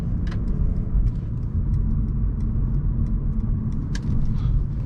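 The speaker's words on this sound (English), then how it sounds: "You need to just tap into the throttle and the car will accelerate." A 2020 Mercedes C-Class facelift accelerates from a stop, its engine a steady, close low rumble with road and cabin noise that holds evenly throughout.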